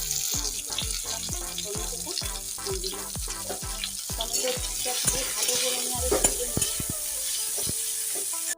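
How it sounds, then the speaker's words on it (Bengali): Brinjal frying in oil in a pan: a steady sizzle with rhythmic scrapes and knocks of a stirring spatula, close and fairly loud, with faint tonal music behind. "আমি এখন বেগুনটা ভেজে নেব।"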